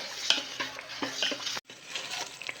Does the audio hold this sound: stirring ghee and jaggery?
yes